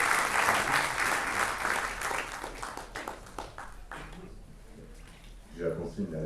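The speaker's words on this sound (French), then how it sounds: "Merci beaucoup d'applaudir Nicolas Bidou de Cap Gouffre Expédition." A conference audience applauds a speaker, steady clapping that swells at first and then fades out, followed by a voice starting to talk.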